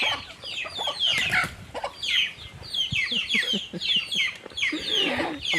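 Chickens being chased on a rural farm squawk and cluck in rapid, agitated bursts, close and loud, with a few thumps and scuffles between cries.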